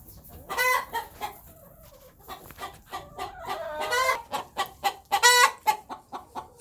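Hens cluck and squabble in a flock, bursts of clucks and squawks repeating close by with brief pauses between them.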